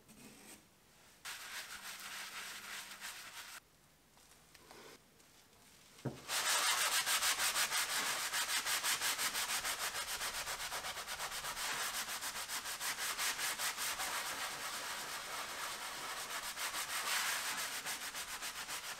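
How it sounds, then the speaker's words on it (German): Permanent marker being scrubbed off with a green cleaning stone, a close, dry, raspy rubbing in quick back-and-forth strokes, starting in short bursts and then continuing steadily and loudly. "Ich habe ein bisschen geschrubbt und das Ganze ist weg."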